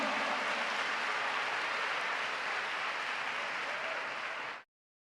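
A church congregation applauds in a continuous, dense wash of clapping that holds steady, then cuts off abruptly near the end.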